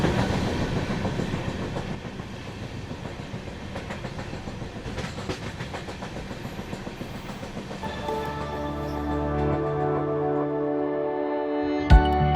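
Howrah–Chennai Mail passenger train running after leaving Visakhapatnam, a steady rolling rumble with rhythmic clickety-clack of wheels on rail joints, steady and close, then a brief sharp knock near the end.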